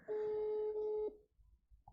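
A telephone dials out before a call, with one loud, steady tone of about a second that cuts off, followed by faint low rumbling and a brief soft blip.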